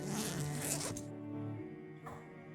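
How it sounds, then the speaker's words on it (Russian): A backpack flap is unfastened with a quick zipper-like rasp lasting about a second, followed by a softer second pull, close up over a faint hum. "Я отстегнул клапан рюкзака."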